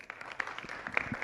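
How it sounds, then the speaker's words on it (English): Audience applause following a lunchtime public talk, a brief dense patter of many hands clapping at moderate level with no voices over it. "Let's give Sarah one more round of applause."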